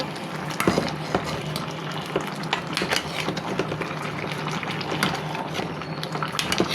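Dried fish curry with waxy potatoes frying in a pan, stirred with a spoon, giving a steady sizzle broken by repeated scraping and clinking strokes, close and fairly loud with no talking.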